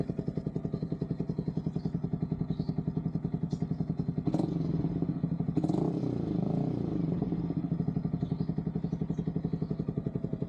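Yamaha XSR 155 motorcycle idling with a new aftermarket muffler and silencer fitted, giving a steady, rapid low thumping exhaust pulse throughout, moderately close, with a brief clattering burst around the middle.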